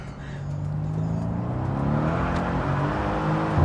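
A Mercedes-Benz C63 engine revs steadily and loudly on a downshift, a deep sustained growl holding close and even throughout, with no talk over it.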